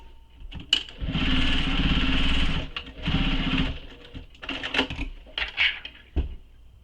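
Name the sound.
sewing machine stitching a bag's key ring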